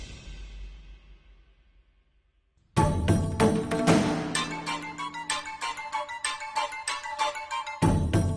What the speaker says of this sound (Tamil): அத்தை, மாமா தான் ஃபோன் பண்ணுது.